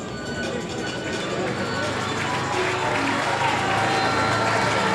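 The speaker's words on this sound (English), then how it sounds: "Rapturous applause for him as he comes up along the main start straight grandstand" Speedway grandstand crowd applauding and cheering a heat winner on the main start straight, a loud, continuous roar of clapping and crowd noise swelling slightly over time, with a commentator talking over it.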